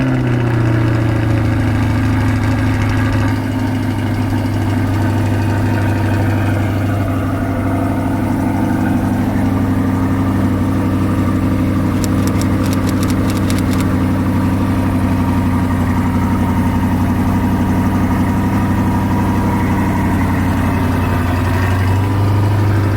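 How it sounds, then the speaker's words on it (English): A Chevrolet Corvette C8 sits in a hotel parking lot after a cold start, its engine idling loud and close with a steady, deep drone that stays constant throughout. "Another C8 cold start."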